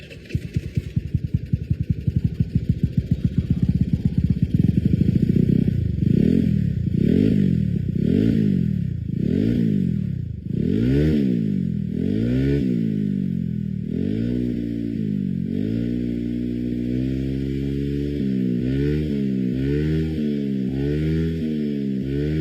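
A motorcycle fitted with a Provid V-01 aftermarket exhaust, heard close and loud, blipped through a series of sharp revs that rise and fall repeatedly, then settling into a rough, pulsing idle with occasional throttle blips.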